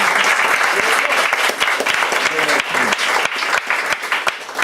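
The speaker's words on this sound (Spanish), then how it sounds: "Démosle un aplauso al Señor" Dense, steady applause from a church congregation fills the hall, loud and continuous with a few sharper claps poking through, as the crowd honors the Lord after a sermon.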